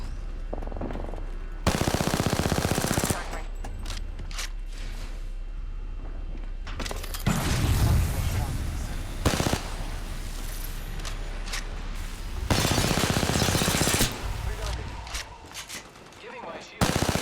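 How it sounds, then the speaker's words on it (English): Enemy gunfire in the Apex Legends video game: loud bursts of rapid automatic fire in several separate volleys, mixed with game effects and brief quieter gaps between the bursts. "The enemies are shooting at me."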